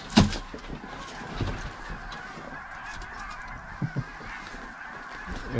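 A large flock of geese honks at a distance during a Wyoming duck hunt, a continuous chorus of calls with a few louder nearby honks and thumps standing out.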